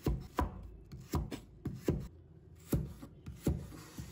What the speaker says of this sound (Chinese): 再准备一个去皮的土豆，把它切成厚片， 再切成条